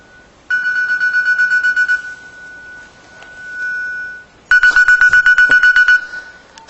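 Mobile phone ringtone going off during a presentation, two loud bursts of rapid repeating electronic beeps separated by a quiet gap, with brief low sound between.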